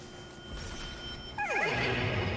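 A horse whinnies in the Destiny 2 video game, a loud falling neigh that starts partway through over a steady game ambience with a faint background hum.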